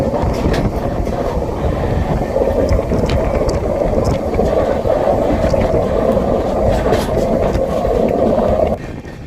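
A Visakhapatnam–Kharagpur superfast express train (22856) runs on, nearing Sompeta station, with a loud, steady rumble and rattle of carriages throughout that eases slightly just before the end.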